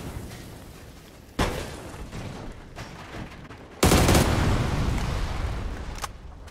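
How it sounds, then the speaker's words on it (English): A car explodes in the PUBG video game: a sharp blast, then a second, heavier explosion that rumbles and slowly decays under gameplay noise. No one speaks. "This car's about to explode."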